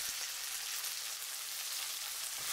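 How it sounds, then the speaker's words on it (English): Marinated chicken pieces sear in a hot pan, giving a steady, close, even sizzle and frying hiss with no pauses or talk. "And add the marinated chicken pieces. Spread them well. And let sear for 1 minute."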